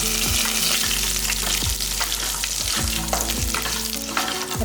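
Spices, curry leaves and dried red chillies frying in oil, a constant loud crackling sizzle with popping bursts and repeated stirring knocks throughout.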